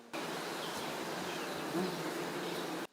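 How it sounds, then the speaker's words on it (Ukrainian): Dense, steady buzzing of many calm honeybees at an apiary of over fifty hives in Ukraine's Vinnytsia region fills the air, a continuous hum that starts and stops abruptly, with no voices. "Сьогодні погода сприяє, бджоли спокійні, кожна зайнята своєю справою."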